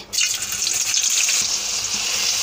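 Meal maker soya chunks frying in hot oil, a steady loud hiss and crackle that sizzles continuously throughout with no talking.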